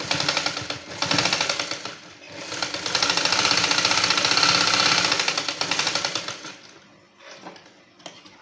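A sewing machine stitches a dress coat in long, rapid mechanical runs, loud and continuous through most of the stretch before slowing and stopping near the end.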